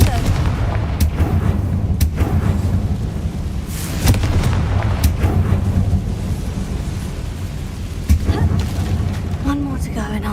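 Confringo fire spells detonate in Hogwarts Legacy as a string of sharp, loud booming blasts, roughly every second or two, over a rumbling game soundscape.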